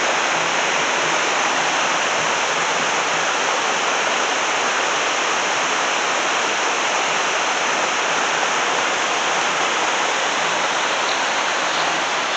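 River water rushing steadily over rocks, a dense, continuous broadband roar with no breaks, close and fairly loud, running low after a lack of rainfall.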